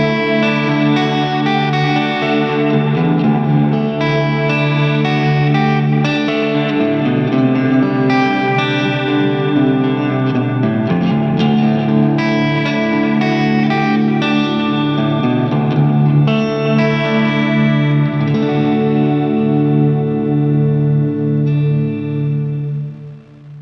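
Electric guitar through a Line6 HX Stomp set to Vox AC30 amp and Rev 4x12 cab models, playing driven, chorused chords and lines with echo and reverb, loud and continuous without talk.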